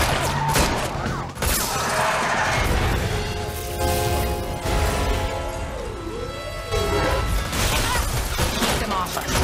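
Rapid video game gunfire rattles out in sustained loud volleys aimed at car tires during a machinima chase, layered with crashing impacts, engine drone and a music score.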